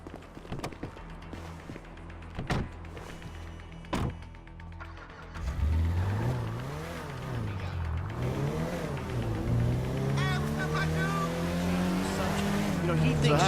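A car engine in the video game GTA V revs and accelerates loudly, its pitch sweeping up and down through gear changes. A few quieter seconds with scattered clicks come first.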